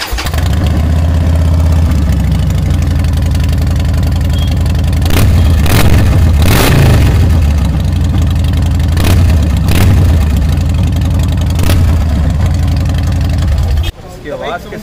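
Harley-Davidson motorcycle engine running loud and close at a steady, deep idle, with several sharp throttle revs partway through before cutting off near the end.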